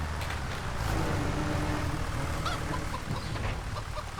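Chickens in the farm game Farming Simulator 25, heard as a dense, steady flock clucking and squawking over a low ambient rumble, fairly loud throughout with no talking.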